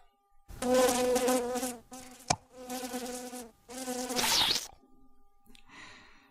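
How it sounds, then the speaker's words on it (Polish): A housefly buzzes close by near a sundew plant in several loud, droning bursts with short pauses between them, and a sharp click in the middle. "podeślijmy jej muchę, niech ją skonsumuje"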